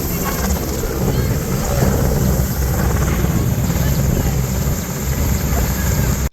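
A helicopter at an air show hovers close to the runway barrier, giving a loud, steady, blasting roar of rotor wash and wind buffeting the microphone that holds for several seconds, then cuts off abruptly.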